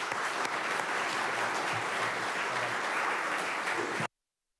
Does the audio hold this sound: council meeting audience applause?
yes